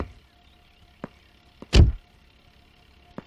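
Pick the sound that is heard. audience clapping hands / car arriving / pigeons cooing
car arriving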